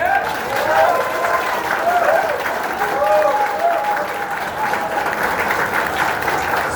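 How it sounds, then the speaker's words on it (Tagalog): Audience applause at a hospital cath lab opening in Manila, a steady wash of clapping lasting several seconds with some voices and crowd murmur mixed in. "Pwede bang lakasan yung palakpak ninyo"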